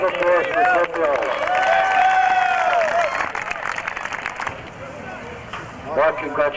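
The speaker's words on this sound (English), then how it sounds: "Round of applause for Kent Bills." A crowd at a 1994 Montgomery County all-star basketball game applauds Kent Bills, named most valuable player for the North; steady clapping with a few shouts, thinning toward the end as voices talk over it.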